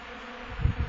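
Honeybees buzz close by around a hive where powdered milk has been set out, a soft hum with a couple of brief louder passes near the end.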